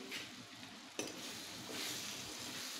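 Chopped drumstick pods are dropped into a pan of frying masala and stirred, giving a faint, steady sizzle with a soft clatter as they land, and no voices.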